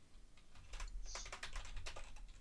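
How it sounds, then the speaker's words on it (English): Rapid, furious typing on a computer keyboard, a dense run of clicking keystrokes close to the mic with no talk over it. "I hear Lucky typing furiously."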